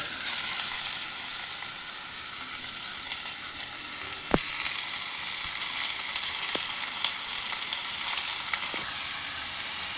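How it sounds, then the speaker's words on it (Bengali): Marinated chicken in ginger, pepper, green chilli, cumin-coriander, Kashmiri chilli, yogurt and garam masala fries steadily in a pan, a dense close sizzle with a few brief clicks of a utensil and no talk. "একটু মাংসটাকেও ভাজা ভাজা করে নিচ্ছি"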